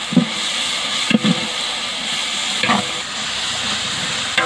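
Masala of garlic, tomato paste and green chilies sautés in a pan for quail biryani, giving a steady loud hiss and sizzle broken by a few scraping stirs of the spatula, close up and with no talking.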